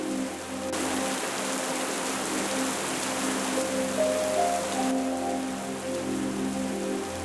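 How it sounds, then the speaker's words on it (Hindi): Heavy rain pours down during a sudden storm, making a steady, dense hiss that holds evenly throughout with no voices. "तभी अचानक तेज आंधी और बारिश आने लगती है।"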